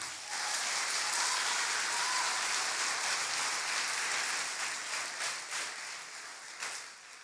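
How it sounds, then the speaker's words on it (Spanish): Church congregation clapping together, a broad sustained burst of many hands that stays loud for several seconds, then gradually thins and fades toward the end. "Aplaudan."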